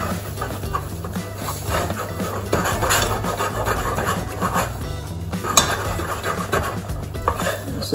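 A spoon beats a flour mixture in a pan, giving steady scraping and knocking of metal. The clatter is close, fairly loud and irregular, and it keeps going the whole time with no talking.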